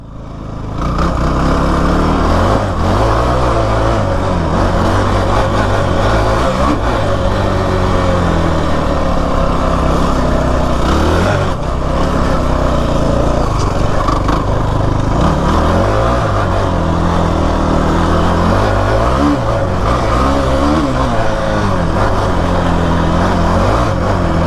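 A Kawasaki KFX 450R ATV engine drones loud and close during a ride, a steady low throb with its pitch rising and falling as the throttle opens and closes and the engine revs up and down.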